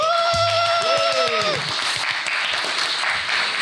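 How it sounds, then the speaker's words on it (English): An audience at a live business show event applauds steadily, loud and sustained, with a cheering voice and background music tones early on. "Can we give everybody a round of applause?"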